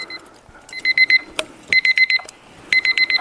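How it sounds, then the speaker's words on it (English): An alarm clock goes off close by, three bursts of rapid four-beep groups with sharp high electronic tones, separated by short pauses, with faint background noise between. "So there's my alarm."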